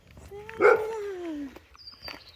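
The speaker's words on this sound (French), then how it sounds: "Il va rien te faire, ce chien." A dog named Shana gives a single whining, yelping bark on a city street, followed by a fainter high whimper, with no talking over it.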